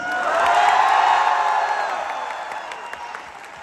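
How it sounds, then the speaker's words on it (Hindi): An audience at a success testimony event breaks into loud applause mixed with cheers and whoops, swelling quickly, then slowly fading away. "एक बार बहुत जोरदार तालियां"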